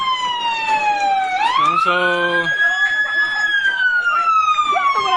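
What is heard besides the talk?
fire truck sirens at burning establishments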